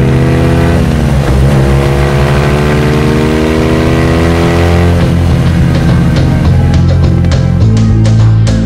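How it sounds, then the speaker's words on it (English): A BMW rally motorcycle racing, its engine roaring loud and close with rising revs climbing through gear changes, then dropping and pulling again, continuous and dominant throughout. "Tout au loin, Hubert Auriol et sa BMW. La moto numéro 100 fonce vers la victoire."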